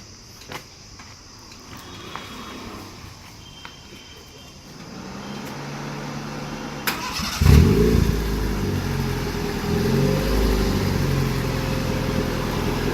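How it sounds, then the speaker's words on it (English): A Suzuki Esteem fitted with a swapped 1.5-litre Honda D15 engine cranks and fires up after some quiet shuffling, then settles into a steady, smooth idle rumble close by. "Start the car up right now."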